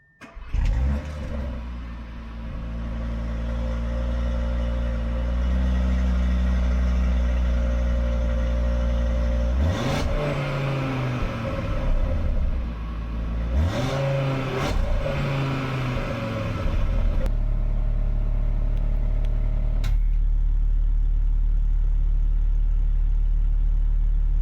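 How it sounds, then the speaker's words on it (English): An Audi RS3 engine, exhaust valves shut, cranks and fires, settles into a muted idle, then gives two sharp revs and a final blip, loud and close with no voices. "now I'm gonna start it with the valves closed,"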